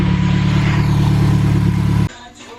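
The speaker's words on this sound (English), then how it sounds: "letting the engine run with the new oil" A 2008-2015 Mitsubishi Lancer engine idling steadily with fresh oil, a loud, close, even hum with light clatter that cuts off abruptly near the end.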